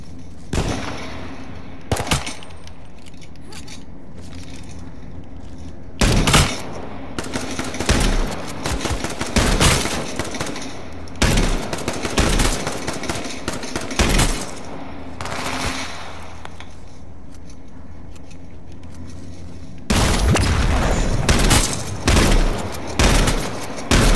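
Shotgun fire in the video game H1Z1 on PS4 Pro: loud, sharp blasts in irregular bursts, some spaced apart and others packed into rapid clusters, with dense firing near the end.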